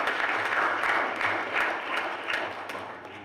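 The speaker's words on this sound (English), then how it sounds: "Let's give them a round of applause," Church congregation applauding the choir at an Igbo Anglican Sunday service of nine lessons and carols: steady, dense clapping from many hands that fills the room and tapers slightly toward the end.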